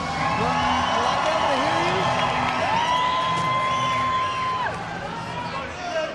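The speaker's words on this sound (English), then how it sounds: "Let me hear you scream." A fight-night crowd at an Atlanta event screams and cheers loudly and continuously, a dense wall of whoops and shouts with an announcer's amplified voice rising over the roar.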